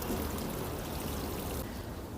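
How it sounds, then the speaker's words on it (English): Water pours steadily onto dry soil in a garden container on an uncovered balcony in January, a close, continuous splashing stream that thins out near the end. "check on that soil and to water if it feels dry to touch"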